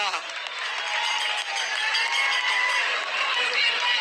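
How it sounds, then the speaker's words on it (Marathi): A large crowd at a rally in Azad Maidan applauding, a dense sustained wash of clapping and cheering heard from within the crowd, steady and loud throughout. "एकदा जोरदार टाळी आपल्यासाठी सुद्धा"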